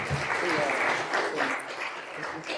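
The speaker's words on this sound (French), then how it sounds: "on peut les applaudir." Audience applause at a business event in Toulon about mega-yacht refits: steady, moderately loud clapping from a seated crowd lasting a few seconds, with faint talk underneath.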